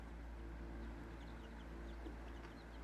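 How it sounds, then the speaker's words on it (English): Hens cluck softly in a coop where a mother hen is kept apart from the flock with her chicks; faint scattered chirps and clucks sit over a steady low hum, with no talking. "We've got them separated right now from the other chickens out there so that they won't pick on the babies."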